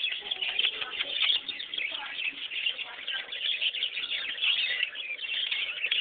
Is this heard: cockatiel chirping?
yes